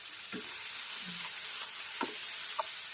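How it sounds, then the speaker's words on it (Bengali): Ground spices such as coriander and cumin being sautéed for paneer bhurji, a faint steady sizzle with a few soft stirring scrapes, no voices. "মশলা খুব ভালোভাবে কষানো হয়ে গেছে"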